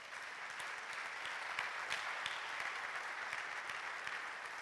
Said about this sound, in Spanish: ¿Le puede dar un aplauso al Señor, hermanos?